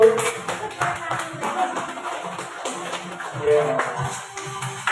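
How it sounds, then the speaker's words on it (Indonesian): Teachers clapping in a school meeting room, a loose patter of applause running underneath a person speaking, with scattered taps and hand strikes throughout. "Tepuk tangan Ibu."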